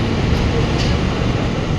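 A moving train heard from inside the carriage gives a steady, loud low rumble and rolling hum, even and unbroken throughout with no voices.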